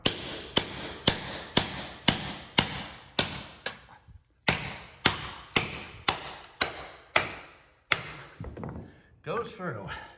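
A sledgehammer strikes a steel wedge driven under floor tile during demolition, a run of sharp, loud metallic blows at roughly half-second intervals with a brief gap midway and scraping at the end.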